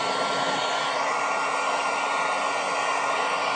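Heat gun blowing hot air onto scratched polycarbonate, a steady loud whooshing drone of fan and airflow, constant and close throughout with no talk.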